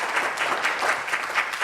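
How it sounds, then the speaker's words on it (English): An audience at the UTS Venture Day 2021 startup awards gives the judges a steady, full round of applause, a dense even wash of clapping with no voices over it. "And a round of applause, absolutely,"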